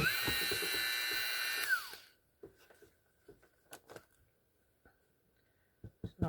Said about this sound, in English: I use a Dremel tool with a very tiny drill bit.